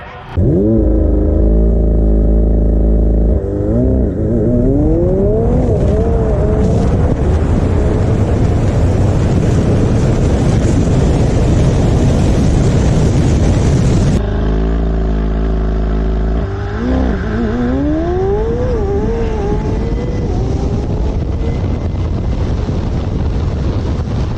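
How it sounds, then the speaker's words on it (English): A McLaren 720 accelerates hard in a drag race, its engine roaring loud and close with rising gear sweeps, a brief drop at a shift near the middle, then climbing again over steady wind noise. "that was my first time ever drag racing the 720"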